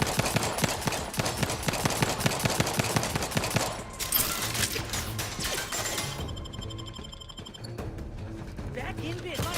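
A turret in the video game The Outer Worlds 2 fires rapid automatic bursts at the player, loud dense gunfire for several seconds before tapering into scattered shots and mechanical clatter, with a voice talking over it.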